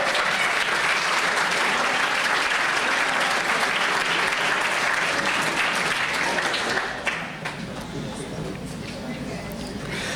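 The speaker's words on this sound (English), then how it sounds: "I now invite the rest of the audience to stand up and give them a standing round of applause." An audience at a student moot court closing ceremony gives a standing ovation. Dense, loud applause fills the room for about seven seconds, then thins and softens, with faint voices underneath.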